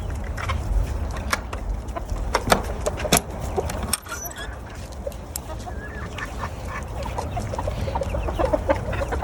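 A backyard flock of chickens clucks and squawks close by, a busy, overlapping chorus of short calls with scattered louder cries over a steady outdoor background.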